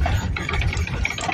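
A vehicle engine runs steadily under engine braking while rolling slowly downhill, a continuous low rumble with faint rattling and no speech over it.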